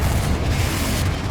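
Confringo fire spell going off in the video game Hogwarts Legacy: one loud, deep, rumbling blast that fills the whole brief moment.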